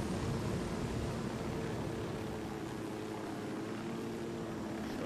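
A helicopter flies in the video game Ghost Recon Wildlands, heard as a steady low rotor and engine drone, fairly quiet and unbroken, with no speech.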